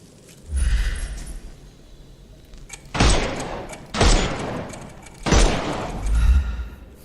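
Gunfire at armoured enemies in a Sherlock Holmes video game: a few loud, separated blasts, each a heavy booming crack with a short decay, spaced roughly a second apart over a quiet background.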